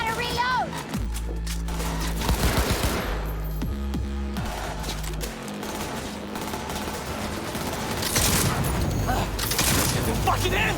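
Automatic gunfire from the video game Cyberpunk 2077 rattles in dense, loud bursts with booms and mechanical clicks, running almost continuously, mixed with game sound and a player talking over it.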